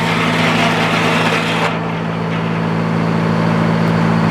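A sawmill trims the knobby edge off a board, its steady, loud, close mechanical roar holding a constant humming drone throughout without pause.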